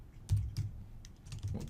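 A password being typed on a computer keyboard, a few soft, quiet keystrokes spaced irregularly over a short stretch with no talk.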